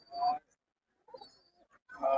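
Pigeons at an open-air pigeon market in Talgachhi, Shahjadpur, sold in pairs, give short throaty coos in two close bursts separated by a quieter stretch of murmuring, with no voices speaking over them.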